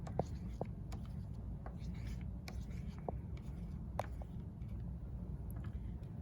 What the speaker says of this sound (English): They're called watercolor oil pastels, okay? And you draw with them.